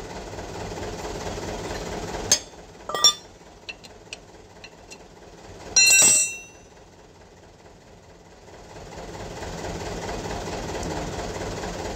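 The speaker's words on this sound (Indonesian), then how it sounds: "Tapi kalau misalnya cuma alatnya palu, kita pukul kanan kiri nih ya" Hammer blows on steel while replacing a vehicle draglink: a few sharp metallic strikes and one longer ringing hit stand out over a low running engine hum, close by.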